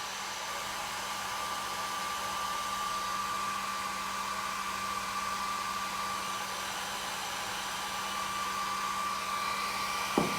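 A hair dryer blowing on two handmade craft pieces, a loud steady whooshing roar with a constant motor whine, running continuously for about ten seconds before a brief knock at the end.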